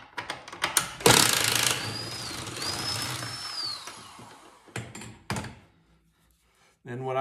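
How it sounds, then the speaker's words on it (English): A Phillips screwdriver tapped against a snowmobile ski bolt to drive it out during a Ski-Doo ski stance adjuster install, heard as a few sharp close metallic knocks amid clatter and workshop handling, with talking. "use a screwdriver, a Phillips, and tap it through on the bolt."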